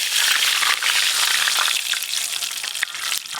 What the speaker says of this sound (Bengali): সর্ষের তেল দিয়ে আলু ফুলকপি ভালো করে ভেজে নেব